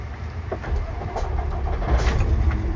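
A quiet diesel engine of a 2021 Peterbilt 389 truck with an automatic transmission idles steadily nearby, a low rumble with faint mechanical ticking and no talking.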